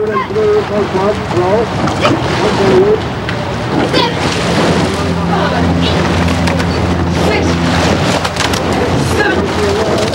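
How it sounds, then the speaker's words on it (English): Eight-oared college rowing shells pass on the Charles River at a regatta, a continuous splashing wash of water and oars under a loud, rain-like hiss with someone narrating over it. "Eight-oared college sculls pull past MIT as they reach the starting buoys in the head of the Charles"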